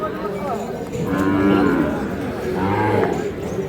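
Calves and bulls, Sahiwal and crossbreeds, low at a busy rural cattle market in Ambari, Dinajpur, with two drawn-out moos rising over a background of crowd chatter.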